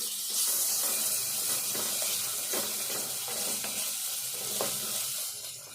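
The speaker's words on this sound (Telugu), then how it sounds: "ఇప్పుడు అల్లం వెల్లుల్లి పేస్ట్ వేసుకోవాలి. ఇది కూడా మంచిగా వేగాలి కొద్దిసేపు." Ginger garlic paste fries in a pan, a steady close sizzle with a few soft scraping strokes of a spoon through it.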